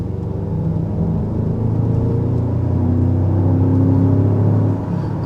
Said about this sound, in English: hopefully you can hear the exhaust note just a little bit there